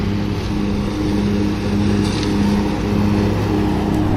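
Continuous engine drone of a lawn mower cutting grass in a diagonal pattern on a residential property, a close, steady hum with slight rises in pitch and no voices.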